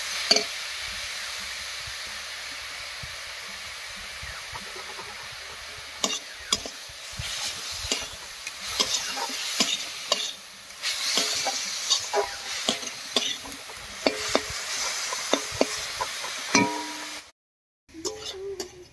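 Cauliflower stems and onion frying in a pan, with a steady sizzle broken by frequent scraping, clinking stirs of a spatula, close and fairly loud, ending after a short pause.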